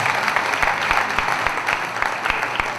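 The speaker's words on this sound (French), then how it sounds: "On applaudisse pour M. Duali." Steady applause from an audience at an evening event, a dense even wash of clapping with a few sharper claps standing out, loud and continuous for the whole stretch.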